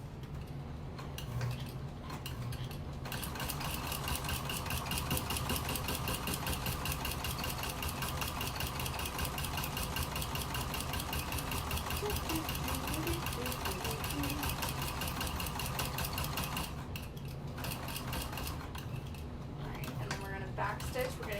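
A sewing machine runs steadily, top stitching a square on a tote bag, a continuous close mechanical hum with rapid ticking needle strokes, pausing briefly at pivots near the start and end.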